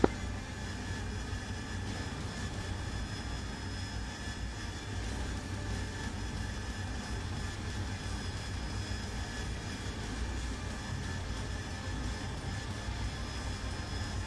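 A flight of three F-16 jets on long final approach in the DCS flight simulator game, a steady broadband jet engine roar with a faint high whine, continuous and unchanging throughout.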